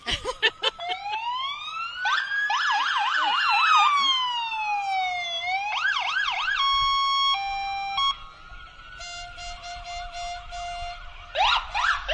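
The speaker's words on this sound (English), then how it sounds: "Oh boy, those sirens are loud." Loud, close sirens wail and yelp at a Memorial Day parade, several overlapping and switching patterns continuously.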